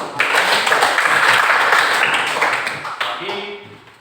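Classroom applause after a student-teacher's presentation on the water cycle, a steady wash of clapping from a group of pupils that fades slightly toward the end, with a voice speaking briefly underneath.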